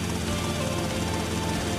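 A helicopter's rotor in Grand Theft Auto: Vice City drones steadily and loudly throughout, a dense continuous whir with a thumping low end.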